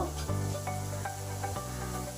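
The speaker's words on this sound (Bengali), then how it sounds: "আলু পেঁপেগুলো একসঙ্গে ভাজা করে নিই" Potato and papaya pieces frying in oil with salt and turmeric give a soft, quiet sizzle, broken by a few light scrapes and stirs of a utensil in the pan.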